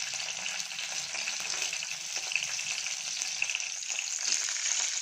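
Chopped green chillies, four of them, frying in a pan with a little garlic, giving a steady, bright crackling sizzle that holds at an even level throughout with no stirring or voices.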